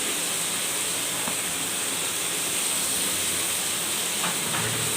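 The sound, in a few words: small fish (methallu) added to hot pan in curry, sizzling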